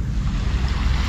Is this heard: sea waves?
yes